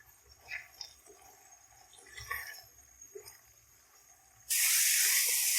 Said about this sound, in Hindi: इसको अब हम अच्छे तरीके से भून लेंगे।